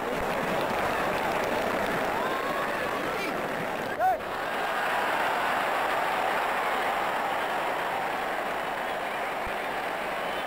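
Cricket crowd in the Brian Lara Cricket 99 video game, a steady broad roar of spectators murmuring and reacting after a run out, continuous throughout with a brief dip midway.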